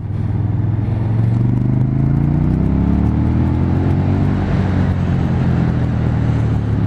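A 2018 KTM 1290 Super Duke R motorcycle engine heard while riding, a loud, close, steady low rumble that rises in pitch as it pulls, with wind noise and no talking.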